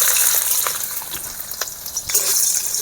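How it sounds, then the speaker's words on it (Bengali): Chopped onion frying in hot oil in a wok with bay leaf gives a steady, hissing sizzle, broken by a few soft scraping knocks, and no one speaks. "পেঁয়াজ ভাজা হয়ে গেছে"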